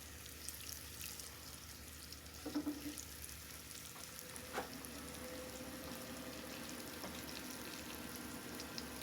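Cube steak browns in a pan with a steady, even sizzle throughout, the frying hiss running alone without talk, broken only by a couple of light clinks or stirs.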